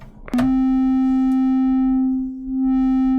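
A basic Reaktor Blocks synth voice routed through a filter sounds one sustained, steady tone with rich harmonics, starting with a click, and its brightness dips and returns as the filter moves.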